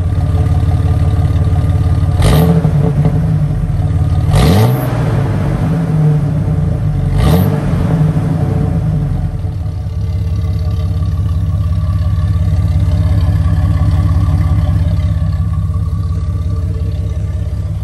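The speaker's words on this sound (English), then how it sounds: "I want to go see if I can show an exhaust clip." A 2000 Jeep Cherokee XJ's exhaust is revved three times in sharp bursts over a deep rumbling idle, then the engine settles back to a steady idle.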